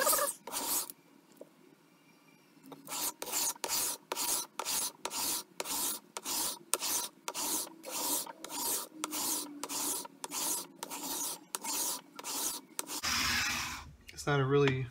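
Cheap sandpaper rubbed across the frets of an Ibanez GSR200 bass guitar, a steady series of about twenty rasping back-and-forth strokes, close and even in rhythm, with brief faint talk.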